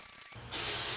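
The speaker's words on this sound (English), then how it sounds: "I got to spray this and my fabric" Spray adhesive blasted onto fabric while reupholstering truck doors, a quiet moment broken by a sudden loud, close, steady aerosol hiss that continues to the end.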